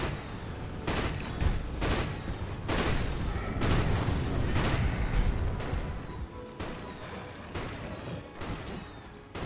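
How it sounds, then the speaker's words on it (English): A Dota 2 tower is attacked in a DreamLeague match, with dense, repeated crashing hits and blasts going almost nonstop. Punchy impacts recur every second or so against a busy, rumbling battle background. "Dire's top tower is under attack."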